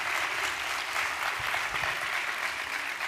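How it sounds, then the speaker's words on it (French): A roomful of people gives a short, dense burst of applause, steady and fairly close throughout, with no voices. "Vous pouvez les applaudir."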